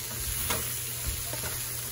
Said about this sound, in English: Just get all that sauce and everything mixed up.